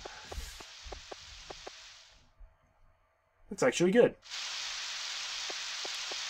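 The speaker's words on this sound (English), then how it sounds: "There is no music, just background rain." Steady hissing rain ambience from the Nintendo 64 farming game Harvest Moon 64 fills the background with no music, briefly cut out while a person speaks, then returning as a constant wash.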